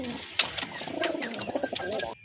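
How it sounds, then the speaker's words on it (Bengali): Domestic pigeons in a breeder's collection, including a male local desi pigeon, coo steadily in a low, throaty repeated rhythm at close range, with scattered chirps and rustles mixed in and no clear talk. "এটা হচ্ছে আপনার একটা নর দেশি কবুতর"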